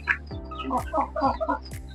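Chickens cluck in short, repeated bursts at close range, several calls overlapping in a busy run lasting a couple of seconds.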